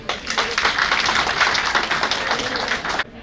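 A crowd at a 25th wedding anniversary celebration breaks into loud, sustained applause, dense clapping that holds steady for about three seconds before cutting off abruptly.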